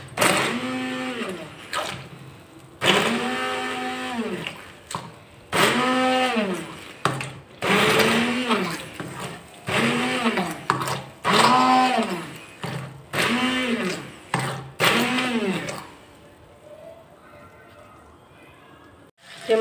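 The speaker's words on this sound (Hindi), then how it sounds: "फ्राई हुए हुए टमाटर और प्याज को मैं अच्छे से वो करूँगी, ग्राइंड करूँगी" A kitchen grinder pulsing fried tomatoes and onions, about nine loud whirring bursts of a couple of seconds each that rise and fall in pitch, then a quiet tail.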